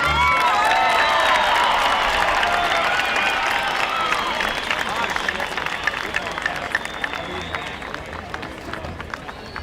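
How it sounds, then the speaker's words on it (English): A crowd at a Republican Party event in Ogden, Utah applauds and cheers for President Reagan, a sustained wash of clapping with whoops and shouts that gradually eases, mixed with background crowd babble. "Let's give President Reagan another great round and cheer"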